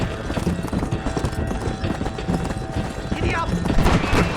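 Red Dead Redemption horse galloping with steady clip-clop hooves beneath a busy game mix of voices, music and distant gunfire, running continuously throughout.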